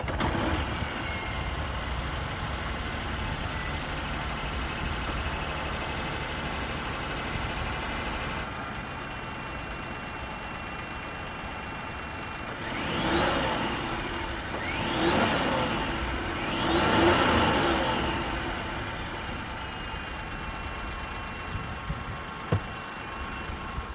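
A Peugeot 3008 GT Hybrid with the 1.2 PureTech EB2 petrol engine runs at a steady, even idle, then rises in three gentle revs before settling, heard close and continuous.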